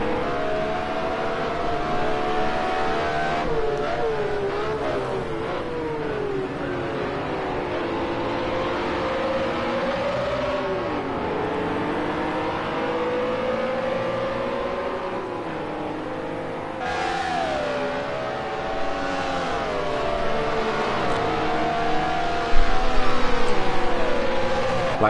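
Race cars lapping Road America in Project Cars 2, several engines whining and revving with rising and falling pitch as they shift gears and brake, a continuous loud pack sound with no talk.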